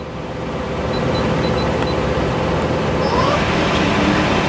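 Steady broadband running noise of a 2013 Okuma LB3000 EXII CNC lathe with its spindle turning, a loud continuous drone with faint tonal whines, unchanging throughout.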